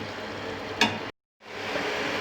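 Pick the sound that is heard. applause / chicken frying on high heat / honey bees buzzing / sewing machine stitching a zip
chicken frying on high heat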